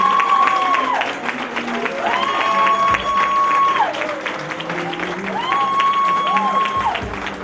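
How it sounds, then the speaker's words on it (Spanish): A crowd applauds and cheers for a cancer survivor being introduced at an event, the clapping spread beneath loud, sustained melodic music tones that swell and fall in repeating phrases. "Démosles un fuerte aplauso"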